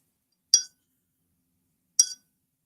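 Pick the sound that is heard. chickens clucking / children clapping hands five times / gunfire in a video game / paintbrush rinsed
paintbrush rinsed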